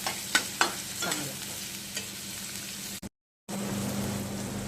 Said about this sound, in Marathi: पहिला कांदा तळून घ्यायचा चांगला.